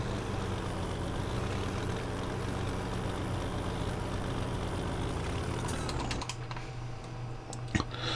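A quiet tractor in Farming Simulator 17 idles with a steady low engine hum and faint high whine, cutting to a softer, thinner drone near the end with a few brief clicks.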